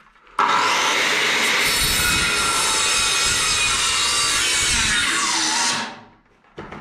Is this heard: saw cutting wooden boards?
yes